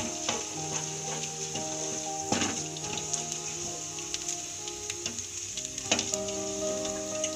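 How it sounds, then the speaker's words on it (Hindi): Whole coriander seeds fry in hot oil for samosa filling, a continuous crackling sizzle with frequent sharp pops and a faint steady tonal hum underneath. "साबुत धनिया डाल रहे हैं। ये धनिया हमारा थोड़ा लाल हो जाए।"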